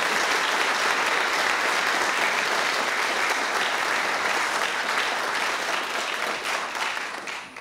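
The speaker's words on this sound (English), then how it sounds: "A bit of an applause for our two guests up here." Sustained audience applause for two guests at a talk on SETI and the search for extraterrestrial intelligence, dense and steady throughout before tapering slightly at the end.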